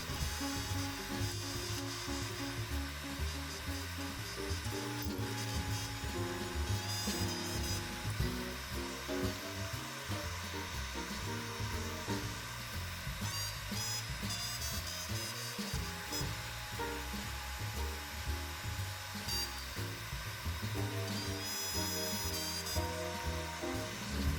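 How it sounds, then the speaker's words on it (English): A power drill with a 3/4-inch bit bores all the way through wood while a glue-up station is assembled, its motor whining steadily and loudly with shifting pitch as it cuts, continuous throughout. "Now we're going all the way through with the 3/4 bit."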